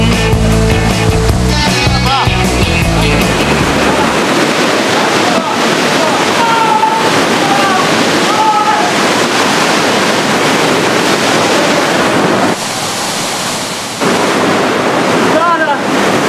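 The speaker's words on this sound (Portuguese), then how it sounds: "A descida na Cachoeira Ribeirão dos Pintos é feita em duas etapas." Waterfall at Cachoeira Ribeirão dos Pintos, near Foz do Iguaçu, during a canyoning descent: a loud, steady roar of rushing water with wind buffeting the microphone, broken by a brief dip partway through.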